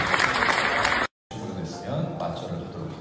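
Wedding guests applaud the bride and groom, a dense crowd clapping that cuts off abruptly, then resumes more softly under a speaking voice.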